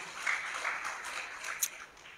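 A church congregation claps together in a soft, moderately distant round of applause that holds steady for a couple of seconds and then thins out.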